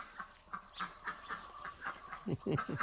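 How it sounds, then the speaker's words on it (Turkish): Chickens in a Turkish farmyard calling in a run of short repeated clucks and squawks, fairly close, growing louder and denser toward the end, with no talk over them. "Tavuklarım da Turgut çağırıyor lan."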